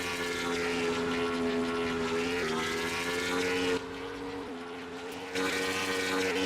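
Dodge race car engine in a racing video game drones continuously with a buzzing, steady pitch, a dense pack of cars heard close, with brief dips in loudness midway.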